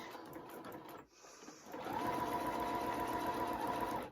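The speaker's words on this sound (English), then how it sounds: "I'm just going to do a couple of stitches and then I'm going to do a back tack" A sewing machine stitches fabric in a short burst, pauses briefly, then runs a longer, steady whirring stretch for a back tack, close and clear with no talking.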